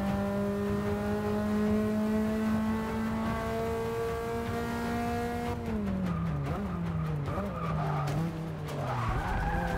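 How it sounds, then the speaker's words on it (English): Race car in Forza Motorsport 6 sliding its tail out: a loud sustained engine whine held steady, then a long tire skid and squeal as the revs dip and wobble, with no talk. "This car just wants to swish its tail end around."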